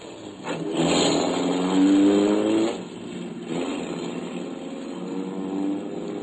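An old-time radio drama car engine effect: a steady motor hum that swells for a couple of seconds then settles into a lower, even drone, loud and close, with no talking.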